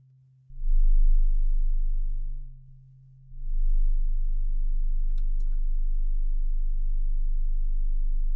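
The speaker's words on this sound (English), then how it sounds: "So we're getting a really deep bass sound because we had some resonance." Deep, resonant synthesizer bass tone, a steady low hum that drops out briefly and returns, then steps through several sustained pitches with faint clicks on top, loud and alone.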